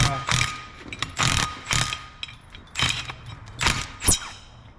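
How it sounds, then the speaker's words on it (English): A ratchet wrench loosens brake bolts on a Honda Civic during front brake work, sounding as several quick bursts of sharp mechanical clicking with short pauses between strokes, close by. "taking the bolts out."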